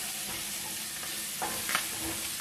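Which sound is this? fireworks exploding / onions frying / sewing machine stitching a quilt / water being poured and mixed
onions frying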